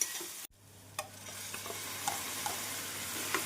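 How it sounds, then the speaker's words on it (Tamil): Tomato paste sautés with onions over a medium flame, a faint, steady sizzle with a few soft utensil taps and scrapes against the pan, heard alone and close by. "தக்காளி விழுது சேர்த்து மீடியம் ஃப்ளேமில் நன்றாக வதக்க வேண்டும்"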